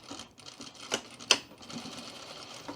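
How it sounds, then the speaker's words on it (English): A sewing machine stitches in the ditch along a skirt seam, producing soft, quiet bursts of rapid mechanical whirring and clicking with a couple of sharper clacks. "we're going to stitch right in the ditch"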